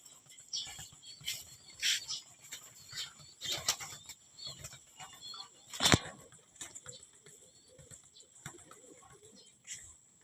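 Racing pigeons flap their wings as they are released, giving several bursts of wing clatter with one loud flurry near the middle, set against quiet outdoor ambience and a faint voice.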